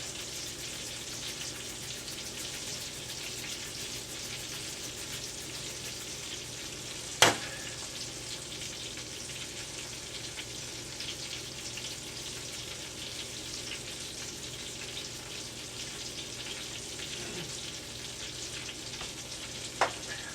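Chicken seasoned with salt and pepper sizzles and crackles steadily in a frying pan, with a couple of sharp clicks and no talk.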